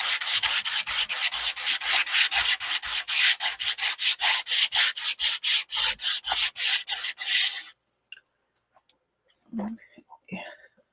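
A rough, dry surface is hand-sanded with quick, steady back-and-forth strokes, close and rasping, for about seven seconds. Then it stops, leaving near silence with a faint murmur of voice.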